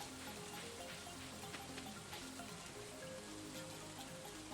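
Steady rain from the green rain weather event in the video game Stardew Valley, a soft, even patter of drops that holds at a constant level throughout with no voices.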